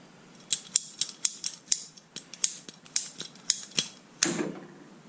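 A hand cutter snips through a pressure regulator hose on a 1980 Datsun 1200 ute, giving a quick series of sharp mechanical clicks and crunches in an uneven rhythm, close up, ending in one heavier final snap.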